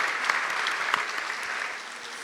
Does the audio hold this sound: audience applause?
yes